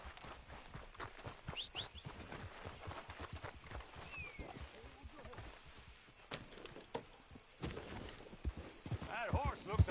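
Horse hooves clip-clop at a walking pace in Red Dead Redemption, with soft irregular clatter and occasional louder steps, while people talk over the top.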